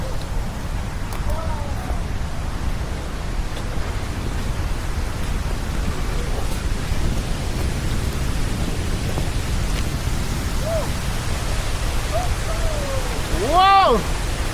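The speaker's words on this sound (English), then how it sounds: "Finally, we had arrived at the bottom of the waterfall." A waterfall near Hoima in Uganda roars as a dense, steady rush of broadband water noise heard from its base, loud and continuous throughout, with faint voices and brief exclamations rising near the end.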